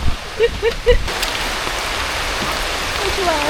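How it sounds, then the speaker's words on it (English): Steady rain falls outdoors during a hike in Singapore, a broad continuous hiss that fills the background, with a few brief voiced sounds near the start. "it wasn't meant to rain"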